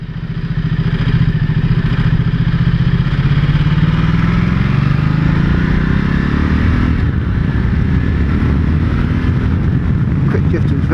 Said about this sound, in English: Quick shifting is very good, better than Monsters was, really slick.